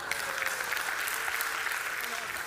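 Audience clapping at a church gathering celebrating a 49th wedding anniversary, a continuous wash of applause at moderate distance, steady for a few seconds with no clear break.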